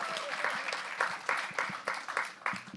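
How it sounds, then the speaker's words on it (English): Steady audience applause, fairly soft and distant, with rhythmic claps throughout. "she gets a clap already"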